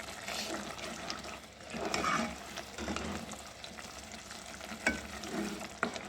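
Spices and green chillies fry in oil in a pan for a lauki chana dal, giving a close, continuous sizzle with scraping stirs and brief crackles and no voices.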